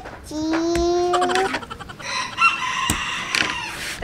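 A rooster crows loudly up close, a drawn-out rising call followed by more crowing and clucking from nearby fowl.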